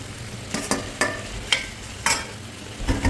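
Prawns and broccoli with mixed vegetables tossed in a hot pan, a busy sizzle broken by several sharp spatula scrapes and clanks at close range, no talking.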